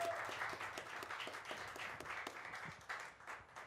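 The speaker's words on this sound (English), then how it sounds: "How about a big round of applause for Bobbie, everybody?" Audience applause at a live cabaret-style show, steady dense clapping from a crowd that runs evenly for a few seconds with no talk over it.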